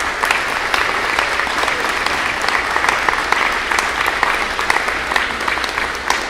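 Steady, full applause fills a parish school town hall meeting in a church setting, many hands clapping continuously and evenly, loud and close with no talk over it.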